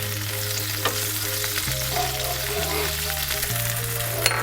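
Shrimp frying in a generous film of oil in a very hot pan, a steady close sizzle under a continuous stepped electronic hum, with occasional stirring scrapes.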